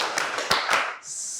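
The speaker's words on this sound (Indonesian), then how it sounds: "Kita ulangi. Tepuk 2." Three sharp hand claps in quick succession, close and clear, followed by a soft hiss.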